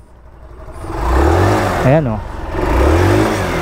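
A FKM Hunter 150 motorcycle with a traditional GY6 engine revs up close in two rising swells, and someone speaks briefly between them over the engine noise.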